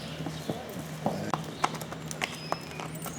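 Hooves of Pulpit, an 18-year-old homebred Thoroughbred stallion by AP Indy, clip-clopping at Claiborne Farm in June 2012, a steady run of distinct sharp hoof strikes close by over a low background hum.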